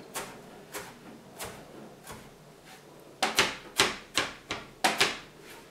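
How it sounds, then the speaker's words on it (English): A knife roughly chops celery leaves on a cutting board: sharp knocks spaced about half a second apart, then a quicker, louder run of chops, with nothing else behind them. "I'm just going to take our celery leaves and just give them just a quick little rough chop."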